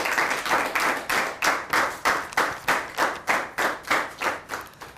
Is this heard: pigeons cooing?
no